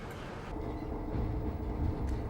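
Freight train rolling past at Theale on the up loop near milepost 42, a steady low rumble of wagons with rising clatter and a brief higher screech, fairly close and continuous.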